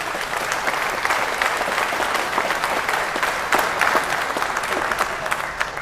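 Sustained applause from a debate audience at a Labour leadership event in Glasgow, a dense, steady wash of many hands clapping that holds at an even level throughout with no break.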